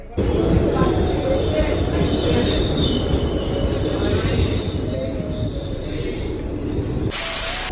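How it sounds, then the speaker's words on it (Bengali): A train rolls in with loud, sustained high-pitched wheel squeal over a heavy rumbling roar of the cars, close by and continuous. "ট্রেনটা চলে এসেছে"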